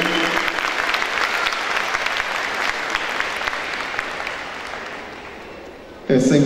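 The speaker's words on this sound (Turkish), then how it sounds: "Alkışlıyoruz herhalde." Audience applause at an evening religious gathering and talk in Istanbul's Bayrampaşa, steady crowd clapping that slowly fades before a sudden loud burst of noise at the end.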